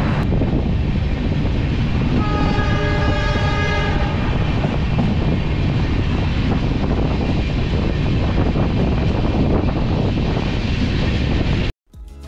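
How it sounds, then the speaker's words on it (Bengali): A Vistadome coach tourist train pulling out of Chalsa station in the Dooars, a loud continuous rumble and wind roar with a horn-like tonal blast early on, running steadily until a sudden cut near the end. "ট্রেন ছেড়ে দিল চালসা থেকে।"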